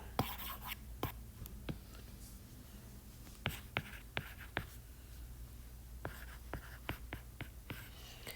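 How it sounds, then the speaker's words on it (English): Handwritten math equations, scratched out in short strokes, give sharp irregular ticks and scrapes against a soft background hiss, fairly close and with no voice over them. "I'm going to write that a little smaller."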